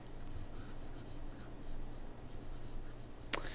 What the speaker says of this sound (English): Let me erase all this stuff.